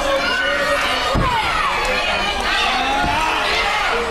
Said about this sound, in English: As our crowd here in Morgan City chanting Green Man's name